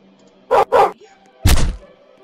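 A cartoonish dog character in the video game Piggy gives two quick barks, followed a moment later by a heavier thud, crisp and close against near silence.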